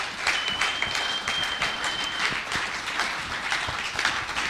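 A church congregation breaks into continuous applause with scattered cheers at the end of a sermon, dense clapping at moderate level with a faint whistle-like tone early on.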